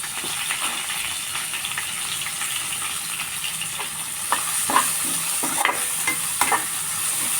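Onions and curry leaves fry in oil in a pan, a constant bright sizzle with intermittent stirring scrapes and small pops growing busier toward the end, close and steady without speech.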